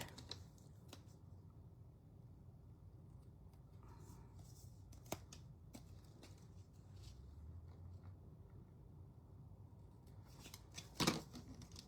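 Scissors trimming paper while making a festive calendar: several faint, scattered snips at a quiet table, ending in a louder, sharper cut.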